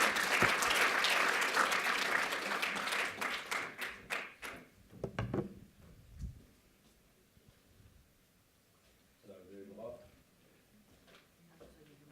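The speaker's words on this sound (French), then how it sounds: "sous vos applaudissements" An audience at a sports medicine editorial prize ceremony claps loudly at first, the applause thinning into scattered claps and fading into quiet room sound with a few distant voices.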